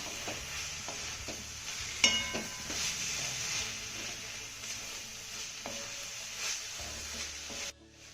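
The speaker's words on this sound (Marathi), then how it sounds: "एकदा ही कारल्याची भाजी ना तळापासून आपण चांगली हलवून घेऊया" A spoon stirs bitter gourd mince through a hot pan, giving a soft steady sizzle with scraping strokes and a clink or two, close and alone until it cuts off abruptly.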